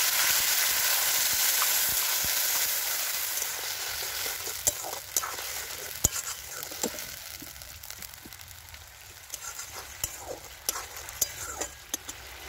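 Tomato paste hitting hot oil with a dried red chilli in a pan while cooking a turnip and kohlrabi curry, giving a steady close sizzle with stirring clicks and scrapes throughout.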